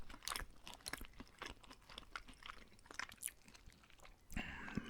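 Close-up chewing of a Burger King Big King burger, soft wet crunches and mouth sounds in an uneven rhythm, quiet and alone, with a louder rustle near the end.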